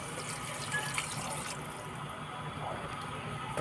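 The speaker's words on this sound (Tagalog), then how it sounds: "Lagyan na natin siya ng tubig." Water poured into a cooking pot for sardine sotanghon with pepper, a steady close filling rush with a trickling splash running alone throughout.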